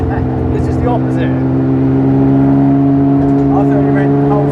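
A lightweight, stripped old Porsche 911 cruises in fifth gear at about 50 and 2,500 rpm, its engine a loud, steady droning hum heard from inside, with voices talking over it.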